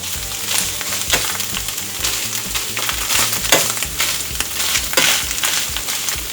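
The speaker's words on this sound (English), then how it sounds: "The trick here is to fry the meat." Meat for vaca frita fries in a pan, a loud, steady sizzle with crackling pops and occasional scrapes of stirring, close up and continuous throughout.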